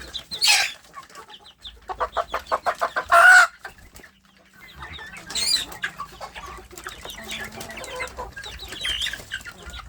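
Large kampung chicken chicks nearly grown to breeding size, clucking and chattering up close in short bursts and rapid repeated calls separated by quiet gaps.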